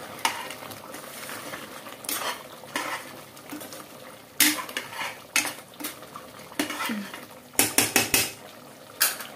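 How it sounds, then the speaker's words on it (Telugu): Chicken curry with masala is stirred in a pan, a spoon clattering and scraping against the metal in irregular bursts of knocks over a soft cooking background. "ఇప్పుడు చక్కగా కలిపేసేసుకుందాము"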